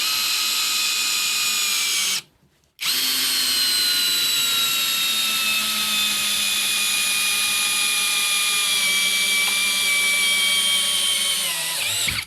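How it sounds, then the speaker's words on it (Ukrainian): An Einhell TP-CD 18/80 cordless brushless drill on first speed drives a 9x260 lag screw without a pilot hole, a loud steady motor whine running about twelve seconds with one brief pause near the start. "Глухарік 9 на 260 без засверлювання, перша швидкість."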